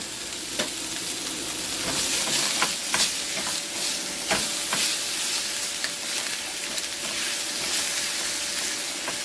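Garlic with green onions sizzling steadily in a frying pan, a continuous close frying hiss broken by occasional sharper crackles and pops as pieces hit the hot fat, with no talking.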